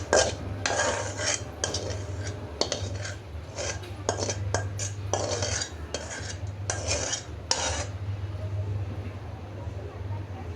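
Metal cutlery scrapes and clinks against a dish in bursts of rapid, close taps while vegetable fry is served, over a steady low hum from a kitchen appliance.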